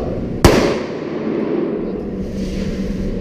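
A single sharp handgun shot cracks out at an indoor private shooting lesson, loud and close, followed by a lingering reverberant tail and steady background hum.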